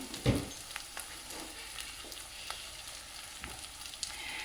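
Stuffed bitter gourds with spices and yogurt are stirred in a pan over a faint, steady sizzle, with a soft scrape of the spoon near the start and a few light clinks afterward, quiet and close.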